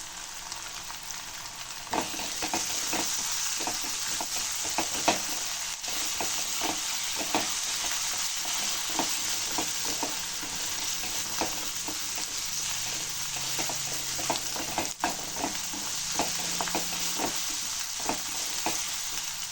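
Ginger garlic paste frying in a pan for a cauliflower pea masala, a steady bright sizzle broken by repeated scraping stirs, close and alone without any talk.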